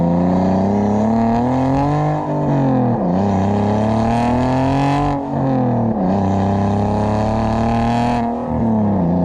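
Turbocharged BMW E36 engine held at half throttle, a loud, steady droning roar that dips and climbs in a few smooth swells, close by with no talking.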